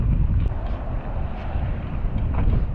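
Wind roars steadily across the microphone, a low, rumbling buffeting that continues throughout.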